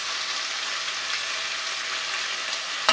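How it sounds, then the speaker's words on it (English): Soup ingredients browning in a pan give a steady, close hissing sizzle, unbroken and alone, with a brief clatter at the very end. "I'm gonna let it brown a little bit so we can get some of those nice golden bits on the bottom of the pan."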